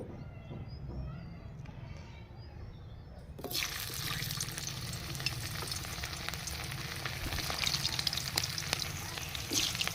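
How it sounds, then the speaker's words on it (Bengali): Quiet background at first, then a sudden loud sizzle as potatoes hit hot mustard oil, continuous crackling frying with occasional stirring clicks. "এখানে আলুগুলো আমি খুব সুন্দর করে ভেজে নেব"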